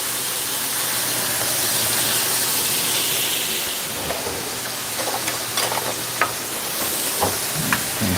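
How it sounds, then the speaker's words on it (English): Pot of potatoes with a stick of butter boiling hard on a stovetop, a steady loud bubbling hiss with foaming, with a few light clinks toward the end. "The potatoes want to boil over on us"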